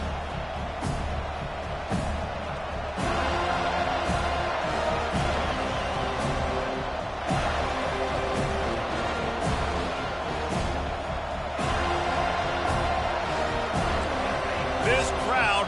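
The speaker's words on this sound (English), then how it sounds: "This crowd bringing an ear-splitting welcome to their visitors." A college football stadium crowd, with the Seminoles kicking off, roars in a steady wall of noise. Scattered thumps and bangs sound through it, and a commentator talks over the crowd.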